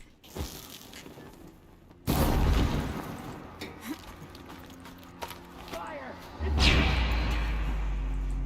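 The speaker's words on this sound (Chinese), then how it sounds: "这爆炸，这爆炸。" A loud explosion in the video game Horizon Zero Dawn booms out in two heavy bursts amid game sounds, with a person talking over the action.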